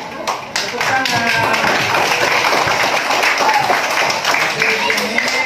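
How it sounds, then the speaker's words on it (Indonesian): A classroom of students breaks into a short round of clapping, many hands tapping quickly and unevenly at close range, with voices talking over it. "Tepuk tangan."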